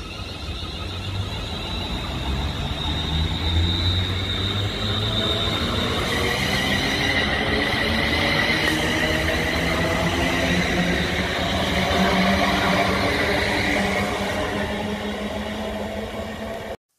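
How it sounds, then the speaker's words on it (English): A Siemens electric train's traction drive whines steadily while the carrier frequency oscillates up and down, producing warbling, wavering electric tones over a continuous rumble of wheels and rail noise as the train accelerates. "sound very unusual because the carrier frequency on these is not fixed. It oscillates up and down."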